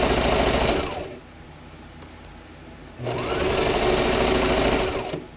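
A home sewing machine stitching a zipper into a purse runs loud and close in two bursts, a steady whirring hum that pauses briefly in the middle before starting again.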